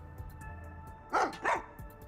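Dog barking in the Master Detective Archives: Rain Code video game: two quick, loud barks close together over a quiet synthetic background hum.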